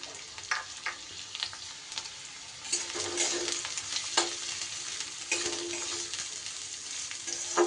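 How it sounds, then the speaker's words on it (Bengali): Chopped carrot fries in hot rice bran oil in a kadai, with a soft sizzle and repeated scraping stirs, a few sharp clinks of a utensil, and louder bursts of frying partway through, all without speech. "তেল গরম হলে সবার প্রথমে আমি গাজরের কুচিটা দিয়ে দেব।"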